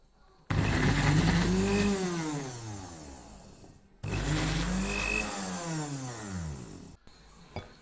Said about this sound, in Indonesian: Lalu blender ubi ungunya sampai halus.